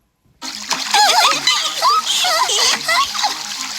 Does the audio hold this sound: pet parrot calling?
no